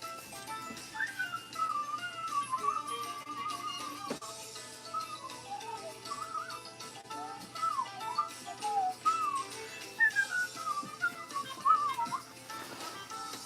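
Someone whistles along to music with jumpy, fast-moving notes through about thirteen seconds. The whistled melody sits clearly above a faint musical backing, with a light tap partway through.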